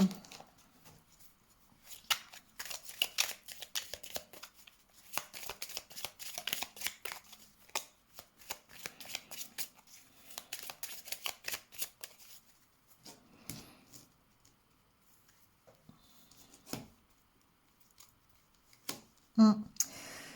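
Tarot cards riffle and slide in repeated bursts of crisp, papery shuffling for about ten seconds, then a few isolated flicks and taps follow amid quieter pauses during a tarot reading.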